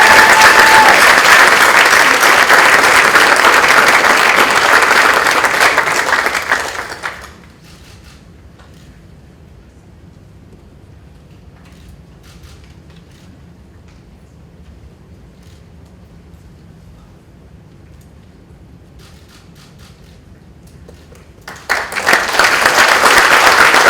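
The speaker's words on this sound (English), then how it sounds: "One last round of applause" Loud audience applause fills a white coat ceremony hall for a physician assistant program, dies down to a quiet room for a long stretch, then swells again into another strong round of clapping.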